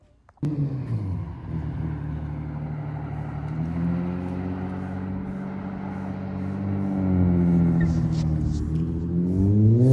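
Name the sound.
car driving on test drive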